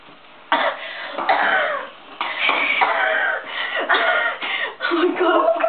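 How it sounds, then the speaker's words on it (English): Repeated harsh coughing fits and throat clearing from someone who has just inhaled a spoonful of ground cinnamon, loud and close, in bursts with brief gaps. "Because you coughed and it all came out."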